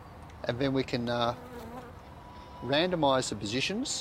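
A honeybee in a face-recognition learning experiment buzzes close by in steady, droning bursts, with a person talking over and between the buzzes.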